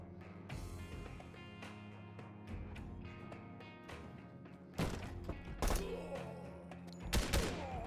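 Sniper rifle fire in a tactical shooter video game: scattered shots and thuds over a low ambient bed, with a few loud sharp cracks later on, one coming as a quick double.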